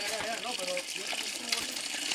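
Water gushes out of a broken pipe in a continuous rushing, splashing stream, close and steady, while people talk over it.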